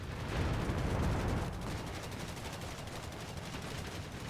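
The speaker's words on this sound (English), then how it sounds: "Machine gun turret." Sustained machine gun turret fire from the WW2 strategy game Company of Heroes rattles in a dense, continuous stream, heaviest at the start and then steady at moderate volume with no talk.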